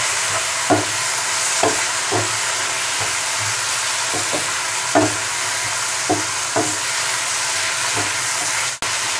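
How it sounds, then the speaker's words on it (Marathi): Tomato and onion sautéing for matar paneer, with a loud steady sizzle and occasional spatula clicks against the pan. "दोन ते तीन मिनिट आपल्याला हे सगळं परतून घ्यायचं आहे"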